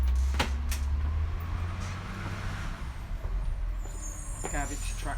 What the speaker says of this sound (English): the sounds of a garbage truck are probably very similar worldwide